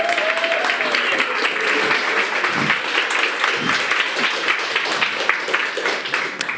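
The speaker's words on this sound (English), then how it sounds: "So let's welcome Anna with loud applause and standing up" Audience at a mental health meetup applauds to welcome a speaker, a dense, steady burst of many hands clapping that continues throughout the clip.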